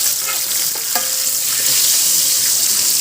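Fish and eggplant fritters frying in a Niyama multi-function robot cooker, a steady close sizzle of hot oil with a few brief pops and clinks, no talking.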